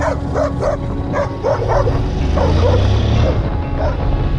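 Dog barking repeatedly in rapid, loud yips and bow-wows close by, during a road trip through Albania, with a low engine-like rumble underneath.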